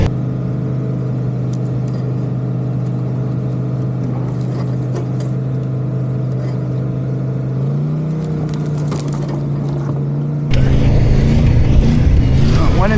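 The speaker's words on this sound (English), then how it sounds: "When in doubt, Stink, rev her out." A 1996 Ford F-350 crew cab truck's engine runs loud and close with a steady drone, then rises in pitch as it revs, and grows rougher and louder toward the end.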